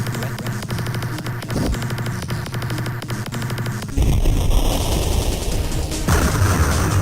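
Rapid, regular shots from Tempest 2000 on the Atari Jaguar make a steady rhythmic pattern of clicks, then a harsher, noisier burst of electronic fire and static takes over.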